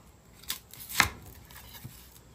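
Kitchen knife cutting an onion on a board, a few quiet separate chops with the second one sharpest, set against a low background and no speech.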